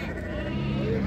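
Ewes with lambs bleat at a sheep market in Füzuli, one sustained, wavering call close by with other people's voices in the background.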